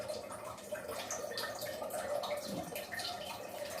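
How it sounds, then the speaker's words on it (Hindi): Water trickles and drips from a kitchen water filter in a home, a steady close splashing with irregular droplet sounds continuing throughout. "फिल्टर से पानी की आवाज़ आ रही है।"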